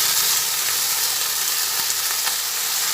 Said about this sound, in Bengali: ভেন্ডিগুলো ভাজা হচ্ছে